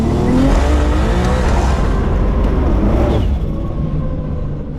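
A race car drifts on a track, its engine roaring loud and close with tire squeal, then the noise fades and drops away in the final seconds.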